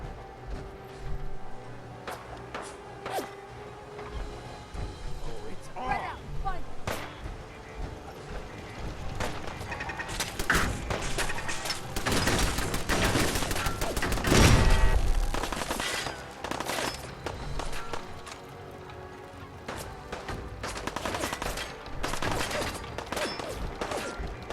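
Fallout 4 combat gunfire, rapid automatic bursts and single shots crackling fairly close, building into a dense volley with a loud blast midway, under occasional speech.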